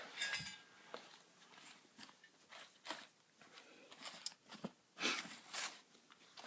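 An MSR 1.1 liter Stowaway cooking pot is handled up close, giving scattered metallic clinks, taps and rattles with soft rustling between them and no talk.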